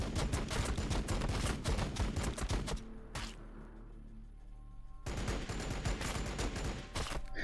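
Rapid pistol gunfire from a reaction attack in the video game Warhammer 40,000: Battlesector crackles in dense, loud bursts, breaks off into a quieter lull with a single shot, then resumes in another sustained volley.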